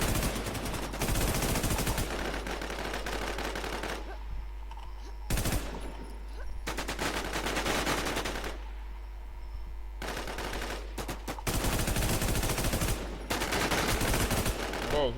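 Gunfire in the online survival shooter WarZ, loud bursts of rapid shots in several long volleys separated by short quieter gaps, with a voice talking faintly between them.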